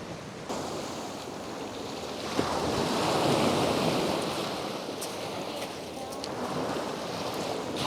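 Ocean surf washes onto Bishop Beach at Homer, Alaska, a continuous broad roar that swells and recedes in the cold wind, with wind buffeting the microphone and no clear talk.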